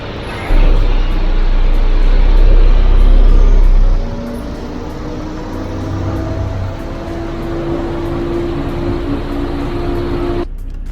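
A Volkswagen CC with a traction control and ABS fault drives along, its engine and road noise a steady loud rumble close by, with a heavier low surge in the first few seconds before settling into an even hum.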